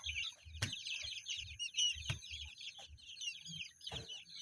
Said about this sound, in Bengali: আপনাদের সামনে উপস্থিত হয়েছি অরিজিনাল কলম্বিয়ান বাহামা মুরগির 27 দিনের বাচ্চা নিয়ে